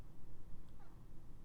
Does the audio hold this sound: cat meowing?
yes